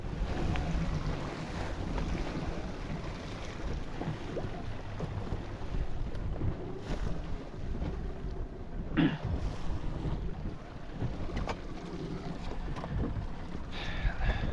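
Wind blowing steadily across an offshore fishing boat drifting at sea, a constant broad rushing roar with mic buffeting and faint water sounds, continuous throughout and without talk.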